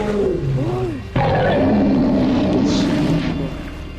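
A wolf in the survival video game DayZ lets out loud, close growling roars with wavering howl-like tones, rising sharply into a sustained, harsh snarling burst that fades slightly at the end.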